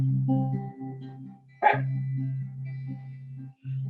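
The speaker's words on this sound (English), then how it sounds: "if you hear my dog barking, he suddenly is barking" One short dog bark cuts in over sustained low musical tones, with the steady background continuing after the bark.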